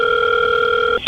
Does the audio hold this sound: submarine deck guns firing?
no